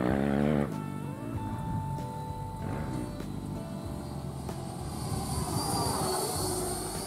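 Piaggio Avanti turboprop engines idling as the aircraft taxis, a steady broadband engine roar with tonal whine lines, continuous and moderately close, rising slightly in pitch toward the end.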